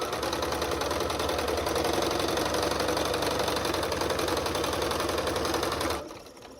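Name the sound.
sewing machine stitching quilt pieces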